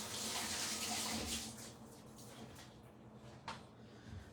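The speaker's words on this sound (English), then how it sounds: "Quick wash of hands." Tap water runs over hands being quickly washed at a kitchen sink, a steady splashing gush that tapers off as the tap is shut, followed by a faint clunk.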